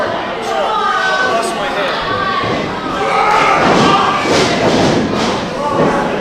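A wrestler lands a clubbing blow to an opponent's back at a pro wrestling match: a dull thud in a hall, under crowd chatter and a commentator's voice.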